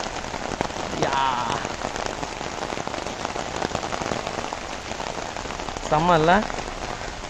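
Light rain drizzles steadily onto surfaces outdoors, a dense constant patter, while people talk briefly now and then over it.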